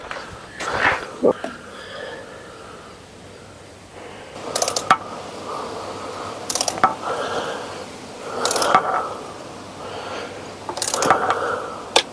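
A ratchet wrench tightening bolts on a 2001 Ram 3500 diesel engine during VP44 and tappet cover work: several separate bursts of rapid clicking, close and fairly loud, with pauses and faint handling noise between them.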